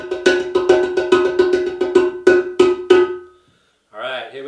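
Rapid metallic strikes on a metal flower stand ring out in a steady rhythm, about a dozen bright clanging hits, then a brief pause before a voice starts speaking.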